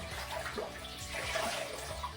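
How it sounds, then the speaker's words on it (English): Warm running water splashes steadily while face cleanser is rinsed off at a sink, a close, continuous wash of water with no talking. "wash that off with some warm water"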